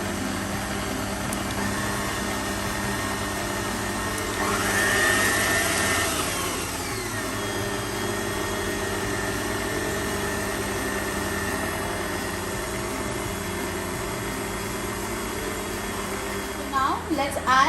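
An electric mixer beats eggless double chocolate cookie dough with a steady motor whir that surges louder partway through as the speed increases. A voice talks over the hum.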